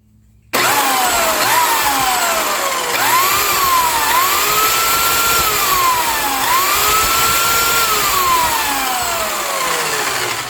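Sun Joe electric dethatcher with a repaired motor brush running steadily after an abrupt start, a loud continuous whine with pitch that rises and dips in slow waves, no talking over it.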